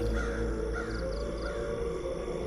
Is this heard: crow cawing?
yes